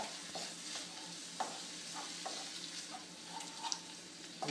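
Spoon stirring Indian dal in a hot pan just after water has gone in, with repeated light scrapes over a continuous gentle sizzle, close and quiet, and no talking.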